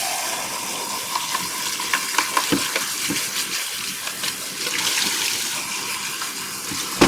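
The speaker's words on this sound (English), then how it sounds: "I actually can hear some sizzling going on" Food sizzling in a hot frying pan while breakfast is cooked, a steady broadband hiss with light clinks and stirring taps scattered throughout, fairly close and with no talk over it.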